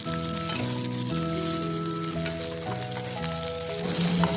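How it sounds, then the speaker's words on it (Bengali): Onion, tomato and hog plums sizzle steadily as they are stir-fried in a kadai, a continuous close frying hiss with light stirring, heard beneath background music. "এতে অ্যাড করব একটা টমেটো কুচানো এবং তিনটে আমড়া দিয়ে এটা কিছুটা সময় কড়াতে নেড়ে নেব"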